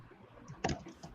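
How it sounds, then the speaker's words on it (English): Keys tapped on a computer keyboard during a React coding session, a short burst of a few quick, faint clicks over quiet room noise. "Let's suppose I am typing something here and I am stopping."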